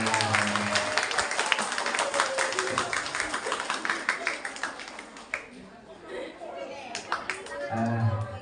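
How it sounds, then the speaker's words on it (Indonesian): Children at a special needs school disaster awareness session in Rembang clap together, a dense burst of claps that thins briefly and then swells again, with an adult voice speaking over it. "Tepuk tangan untuk anak-anak"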